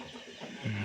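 Short burst of rooster clucking from a pet breed bird kept at home, close and fairly quiet, ending in a stronger low voiced cluck.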